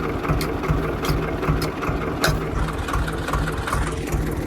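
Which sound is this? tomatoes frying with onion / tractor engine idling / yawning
tractor engine idling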